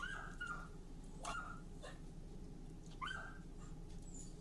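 Dogs indoors in a house whimpering in high, wavering whines with a few short yips, close and fairly quiet over a low background hum.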